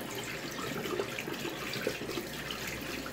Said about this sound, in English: I'm going to rinse this off now real quick